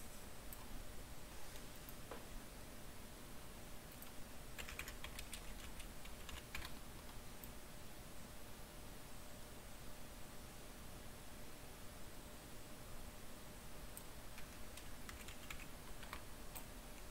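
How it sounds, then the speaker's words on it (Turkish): Computer keyboard typing, with quiet, rapid key clicks in irregular bursts over a faint hiss. The keys sound close but soft, with brief clustered flurries throughout and no talking. "Klavye sesi çok şey gelirse kusuruma bakmayın."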